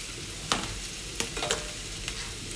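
Vegetables hitting a hot pan for a chicken, leek and potato soup, giving a steady low sizzle broken by a few sharp clinks and scrapes of stirring, close and fairly quiet with nobody talking.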